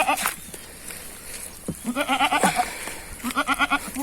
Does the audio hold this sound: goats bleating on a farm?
yes